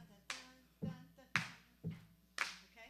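A church congregation claps a steady beat, about one clap every half second, quiet and somewhat distant in a large room.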